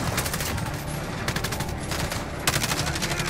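Rapid bursts of automatic gunfire and a flashbang blast in a Modern Warfare co-op match, loud crackling volleys repeating in quick clusters with brief gaps between them.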